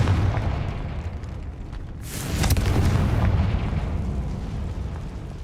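A Confringo fire spell in Hogwarts Legacy bursts with a sharp explosion midway, a bright crack and boom over a rumbling low game backdrop that lingers and fades.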